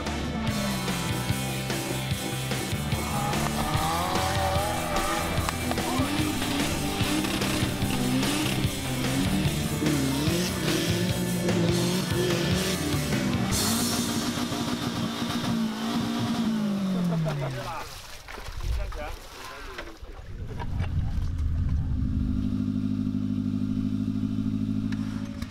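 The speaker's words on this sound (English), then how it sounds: "I'm really enjoying the diversity of vehicles at this event and all of the hardcore racing action" Off-road racing vehicles at a rough, hardcore racing event in Malaysia roar and rev continuously and loudly nearby, engines climbing and falling in pitch, with a brief lull before another engine picks up and a voice speaking over the noise.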